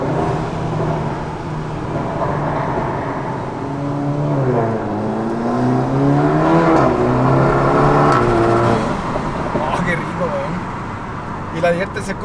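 Revving 2020 SEAT Leon Cupra with a downpipe exhaust: the engine note climbs and falls in several loud sweeps, then settles back to a rumbling idle, with people chatting close by throughout.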